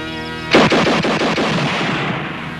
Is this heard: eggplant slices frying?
no